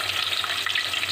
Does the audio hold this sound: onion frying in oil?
yes